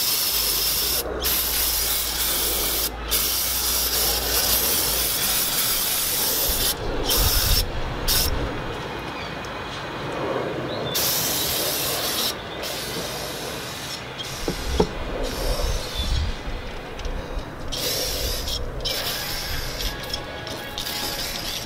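Brake cleaner hisses from an aerosol can onto a brake caliper in repeated spray bursts with short gaps, close and fairly loud, mixed with some rubbing and scraping.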